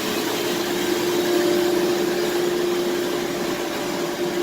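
A Chemcut Sigma production machine runs continuously with a steady mechanical drone and a faint tonal hum, even and unbroken, close by with no talking.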